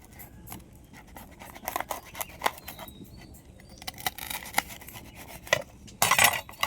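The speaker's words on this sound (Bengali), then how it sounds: "এবার এই ছেঁকে নেওয়া স্ল্যাক্স রুটিগুলো এভাবে কোনভাবে একটু এইভাবে কেটে নেব।" Knife or blade cutting through fried rotis on a board, producing scattered light clicks and scraping taps at irregular intervals, fairly quiet, ending in a brief louder clatter.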